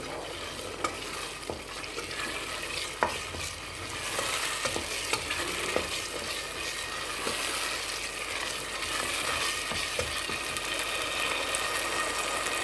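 Chole masala frying and being stirred in oil in a pan, a steady close sizzle with scraping stir strokes throughout, no talking.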